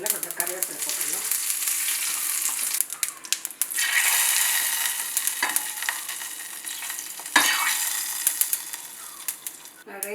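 Curry leaves dropped into a ghee tempering of mustard and cumin, giving a loud continuous sizzle and crackle with sharp bursts as the leaves hit the fat, without talk.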